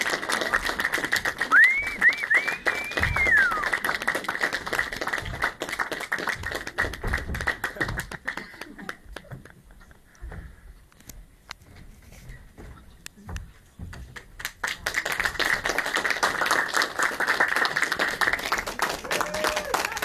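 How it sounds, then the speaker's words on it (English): Applause from the audience after a school play at Dunedin Rudolf Steiner School, a long stretch of dense close clapping that dips briefly midway and then swells again, with cheering voices over it. "Clap your hands."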